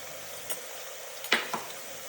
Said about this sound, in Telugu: ఆయిల్ హీట్ ఎక్కాక ఉల్లిగడ్డ, పచ్చిమిర్చి వేసి బాగా ఫ్రై చేసుకోవాలి.